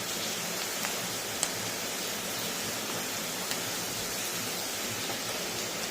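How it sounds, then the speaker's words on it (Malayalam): Heavy rain pours down in a dense, constant hiss, with an occasional sharp drip or tap standing out; no voices. "ഭയങ്കര മഴയാണ് കൂട്ടുകാരെ"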